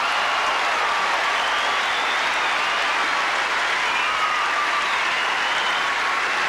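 A tennis crowd at the 1981 Australian Open final applauds an ace, giving sustained, even clapping from a large stadium audience that sounds slightly distant and unbroken, with no voices on top.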